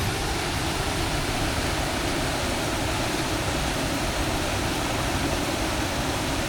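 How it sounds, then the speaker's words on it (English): A river swollen by the rainy season rushes over rocks in a forest near Castle Forest Lodge, a constant, loud, broadband roar of water with no variation or voices. "There is more water moving faster, pushing against rocks and other obstacles to create that constant, soothing roar that echoes through the forest."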